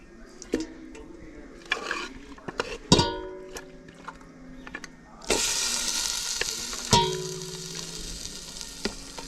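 Beef curry hits hot ghee in a pot for biryani, sizzling and crackling in bursts as ingredients are added and stirred, with a louder surge of frying partway through and utensil clinks between.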